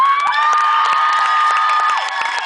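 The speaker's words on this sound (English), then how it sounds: "Have you ever had this kind of rapturous applause before?" A large crowd outdoors at Federation Square erupts in rapturous cheering, whooping and applause, loud and sustained, with shrill voices rising above the roar.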